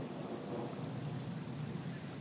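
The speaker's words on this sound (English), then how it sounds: "it's the Queensland summer storm here in Brisbane." A Queensland summer thunderstorm in Brisbane, with gusty wind, delivers steady, dense rain in a constant broadband wash, with a low rumble underneath, heard close and unbroken throughout.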